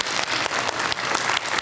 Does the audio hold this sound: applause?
yes